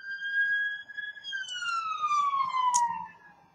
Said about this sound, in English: Wait until that siren passes.